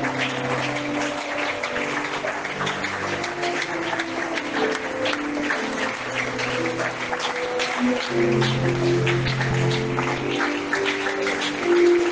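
Clapping spreads through a church congregation at a Sunday service in Dolisie, busy and continuous, with sustained tonal voices or music humming underneath and swelling slightly toward the end.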